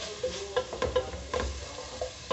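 Onion, rosemary, bell pepper and garlic frying in a pan for a creamy shrimp soup, a steady close sizzle broken by scraping, stirring strokes, no voices.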